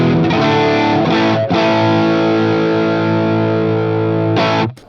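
Boss SD-1 overdrive guitar with the tone control rolled fully down, a loud, dark, saturated chord held almost five seconds with a brief re-strike, then cut off; no talking.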